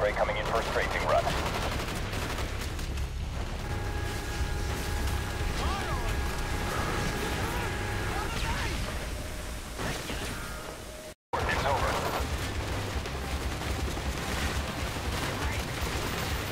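Sustained machine-gun strafing fire from an air support run in the Call of Duty Black Ops video game, continuous dense gunfire with crackling bursts and a low rumble, loud throughout with game radio chatter mixed in and a brief cut near the end.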